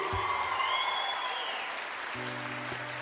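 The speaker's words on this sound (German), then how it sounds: "Also bitte auf die Bühne mit einem grossen Applaus zurück, unser Gastgeber, der Richie!" A live Christmas concert audience applauds continuously as the host returns to the stage, a broad wash of clapping with some faint tonal music underneath.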